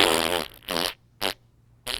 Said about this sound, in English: Let's add this fart sound in.